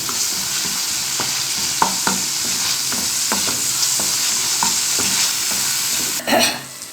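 Masala for masoor dal frying in oil, a loud, continuous sizzle with regular scraping strokes of a spoon stirring the pan and a brief clatter near the end.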